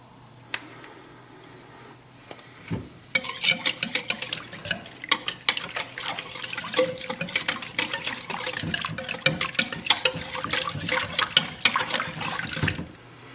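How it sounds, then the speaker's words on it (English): Chickpea batter for farinata is whisked with oil and rosemary. A quieter opening gives way to brisk, continuous wet whisking and sloshing that runs steadily to the end, with no voices. "We can whisk this more. I'll keep whisking it in a moment."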